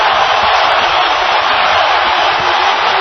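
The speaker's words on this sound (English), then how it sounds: "Crowd sensing the end is near, on their feet." A boxing arena crowd on its feet roaring during the final round of Canelo Alvarez versus Gennady Golovkin, a dense, loud, continuous wall of cheering noise that holds steady throughout without letting up.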